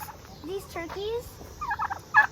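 Turkeys on a farm gobbling, several bursts of rattling and warbling calls from fairly close by, with quieter stretches between them and a louder final burst.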